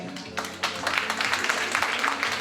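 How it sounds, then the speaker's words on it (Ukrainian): Applause for women at a congress fills the hall from about the midpoint onward, a dense sustained wash of many hands clapping after a quieter start with a low hum underneath. "Ваші оплески."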